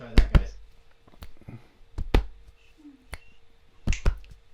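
Sharp finger snaps and chest taps form a body-percussion rhythm, in paired hits followed by single clicks, close and crisp with short gaps between them.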